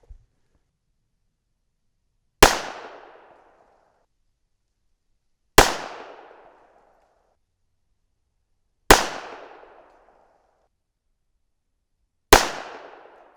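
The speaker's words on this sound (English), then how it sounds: "Let's see if we can shoot us a group here." Four loud, sharp pistol shots from a .25 ACP handgun firing reloaded rounds at a target, each a crisp crack with a short ringing decay, spaced about three seconds apart outdoors.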